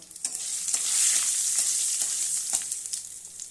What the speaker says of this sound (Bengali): এখন আমি ডালটা সম্বারা দেব। তেলের মধ্যে শুকনো লঙ্কা দিয়েছি, তেজপাতা, জিরে,